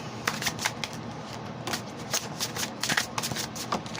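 Tarot cards being shuffled by hand, a steady run of crisp riffling flutters and soft slaps close up, with no talk over them.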